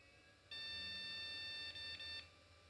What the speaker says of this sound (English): so we do get a different beep tone now